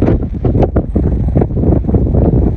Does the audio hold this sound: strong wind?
yes